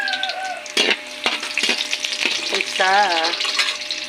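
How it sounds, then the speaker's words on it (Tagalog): Garlic and onion sizzle in a hot pan while being stirred, a steady frying hiss broken by scraping strokes of a utensil, with a person speaking briefly over it. "mix natin yung bawang, sibuyas, loya"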